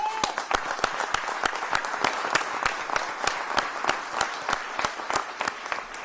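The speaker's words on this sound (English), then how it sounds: "I want to give y'all a round of applause" People at a Florida governor's press event clap in a sharp, evenly spaced rhythm. Distinct individual claps come at a regular pace over a quieter background.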